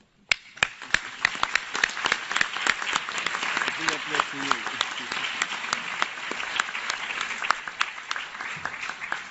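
An audience at an International Youth Day 2017 event gives a big round of applause to close the opening segment. A moment of silence comes first, then crisp individual claps quickly build into sustained, moderately loud clapping.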